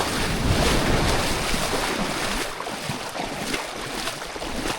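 Ocean surf at Bunker Bay beach in Western Australia at sunset, a steady loud wash of breaking waves mixed with strong wind buffeting the microphone, continuous and unbroken, with no voices.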